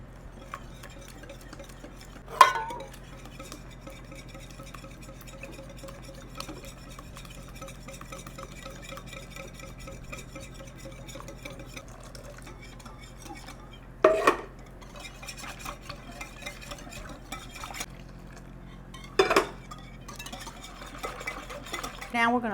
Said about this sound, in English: And we gotta whisk it while we do it.